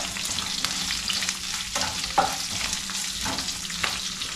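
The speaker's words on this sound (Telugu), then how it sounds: "నేను 2 ఆనియన్స్ని వేసుకున్నాను. సో వీటన్నింటినీ మంచిగా ఫ్రై చేసుకోవాలి." Two onions sizzle and fry steadily in a pan, a close, even hiss broken by a few stirring scrapes, with no talking.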